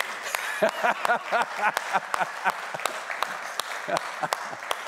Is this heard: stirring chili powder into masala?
no